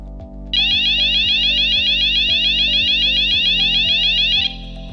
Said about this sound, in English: The internal fire alarm will sound like this.